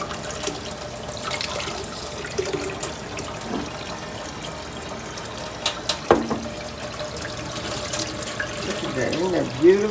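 Tap water runs steadily into a sink while Irish sea moss is rinsed strand by strand by hand, a continuous close splashing wash with small handling bumps.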